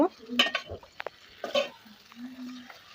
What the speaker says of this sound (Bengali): পাস্তাগুলোকে দিয়ে আমি ভালোভাবে নাড়াচাড়া করব